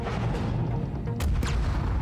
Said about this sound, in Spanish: ¡Wow! Explosión. ¡Bum!